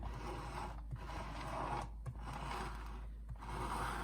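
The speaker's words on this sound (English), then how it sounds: "Just hold your little icing spatula against the cake and turn the turntable." An icing spatula held against a frosted cake while the turntable spins, giving a continuous soft scraping rub with faint mechanical turning noise and no talk.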